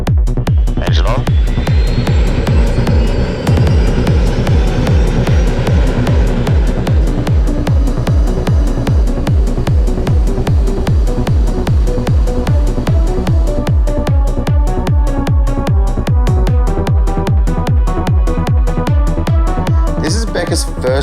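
A heavy helicopter's engine starts up loud and close, its rotor chopping in a fast, steady rhythm that picks up pace over time.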